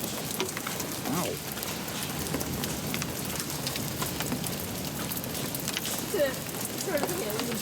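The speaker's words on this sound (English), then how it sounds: "Sort of hailing" Hail falling during a summer thunderstorm near Bemidji, Minnesota, making a steady dense patter on surfaces close by for the whole stretch, with a few sharper impacts toward the end.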